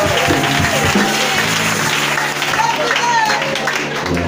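A church congregation applauds and cheers for the Lord in a dense, continuous wash of clapping and crowd voices that holds steady the whole time.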